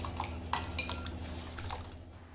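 A spoon stirs milk in a metal pot while it cools for mango ice cream, giving a few light clinks and scrapes against the pot over a low steady hum.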